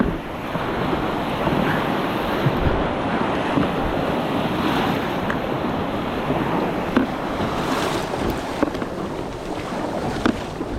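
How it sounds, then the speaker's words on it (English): Ocean waves wash around a kayak out fishing at sea. A steady, full roar of surf blends with wind buffeting the microphone, continuous and fairly loud throughout with no voices. "here's a wave"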